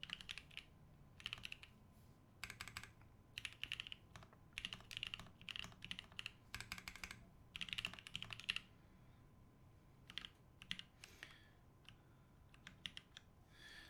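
Typing on a rebuilt HHKB keyboard with retooled stems and Gat Ink switches, quick bursts of close, soft clacking keystrokes separated by short pauses, with a slower, sparser run of keypresses near the end and no talk.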